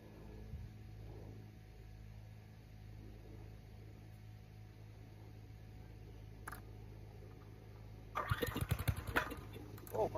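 After a long quiet stretch of low hum, an engine abruptly cranks and catches near the end, sputtering loudly into a rough idle.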